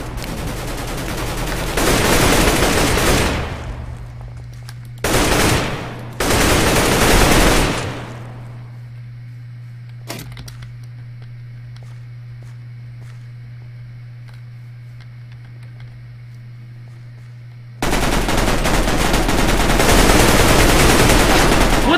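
AK-47 fire in Minestrike, a Minecraft shooter game on the Mineplex server. Loud, rapid automatic bursts run for a few seconds, then a shorter burst and another sustained one, a quieter gap with faint clicks, and a final long stream of shots.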